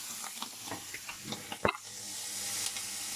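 Lardons frying in fat in a pan, a faint steady sizzle with soft crackles and one sharper pop midway, heard alone at low level.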